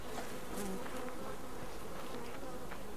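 Bees buzzing in the survival game Subsistence, a steady insect drone that holds throughout, moderately loud against a continuous ambient background with no talk.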